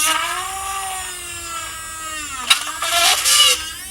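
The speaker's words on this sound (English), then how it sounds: "Put the drill in, switch it on." A small high-pitched Amtech mini drill whines steadily, then dips as it bites into thin plastic about the thickness of a CD, with a brief gritty grinding burst near the end.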